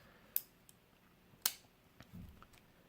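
Victorinox Cadet pocket knife scissors opening: two sharp metallic clicks about a second apart, followed by fainter ticks and a soft shuffle, close and quiet.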